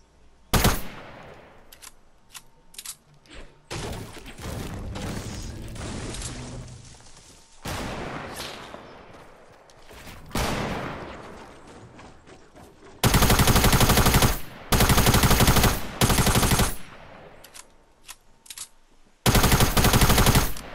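Video game shooter gunfire: loud automatic bursts and single shots in irregular clusters, with long sustained volleys of machine-gun fire in the second half.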